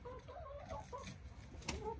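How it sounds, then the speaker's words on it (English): Hens clucking in a coop in January, with several broody birds including silkies; steady overlapping clucks and soft calls at close range, continuing throughout. "I have hens trying to go broody in January."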